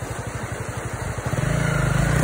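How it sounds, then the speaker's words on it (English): An engine revving hard, its throaty pulsing rising in pitch and loudness partway through, close and continuous with no talk over it. "Go on a bit harder, rev it!"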